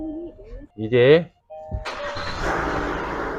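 A Kia Mohave, a 2024 model-year The Master fitted with an aftermarket Bosch two-sensor electric fan, cranks and starts after a short spoken word, then settles into a steady broadband engine run up close.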